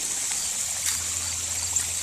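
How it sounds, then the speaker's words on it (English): Pond water overflowing into a stream, a steady close trickle and gurgle that runs without a break and carries no voices. "So the water still overflows and into the stream."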